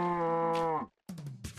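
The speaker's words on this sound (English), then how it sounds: "then kill the cow for the cow tipper achievement" A cow mooing in Minecraft, one close, clear, drawn-out low moo that ends sharply, then a short silence before a second, shorter moo begins.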